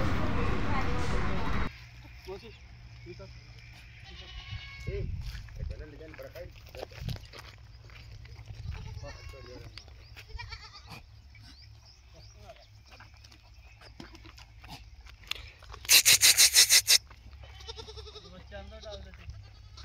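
Sojat breed goats and kids on a farm, with scattered bleats near and far among shuffling animals, while people talk throughout and a sharp loud burst comes late.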